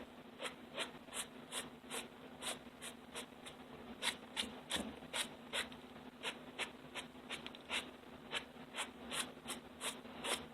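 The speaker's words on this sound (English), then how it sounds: "I am just brushing away the excess glitter" A brush sweeps loose glitter off a pearl-toned abstract artwork in quick, even strokes, a steady run of soft, close scratchy swishes with no talking.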